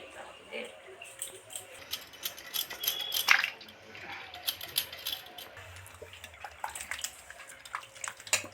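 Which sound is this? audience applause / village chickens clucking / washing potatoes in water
washing potatoes in water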